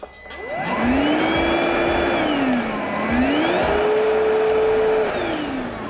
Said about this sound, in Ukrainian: Запускається даний пилосос кнопки та має два режими.